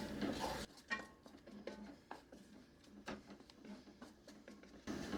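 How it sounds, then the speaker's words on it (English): A crockpot meal stirred in a pan, a string of scraping clicks and light metallic knocks from a utensil against the pan, moderately close with no talking. "Every now and then I'm just going to go ahead and give it a good stir just to make sure it's not sticking to the bottom of our pan."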